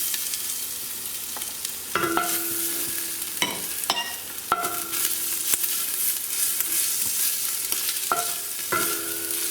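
Onions fry and brown in a pan, a continuous loud sizzle punctuated by sharp scrapes and clinks of a spoon stirring, with no talking.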